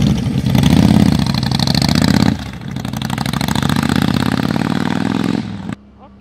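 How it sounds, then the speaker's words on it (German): A motorcycle engine runs close by, first revving loudly, then dipping briefly before revving again with a throbbing, pulsing exhaust note, and finally cutting out abruptly. "dann fahren wir mal Motorrad"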